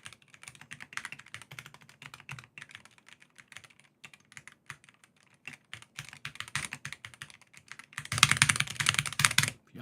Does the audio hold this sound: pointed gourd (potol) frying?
no